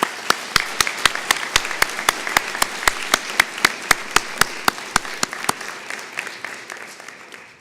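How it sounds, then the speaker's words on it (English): An audience at a Fresno State international commencement ceremony applauds. Sharp, evenly spaced claps ring out close by over a continuous wash of wider clapping that gradually thins and softens. "Please join me in a round of applause for everyone who has contributed to your Fresno State"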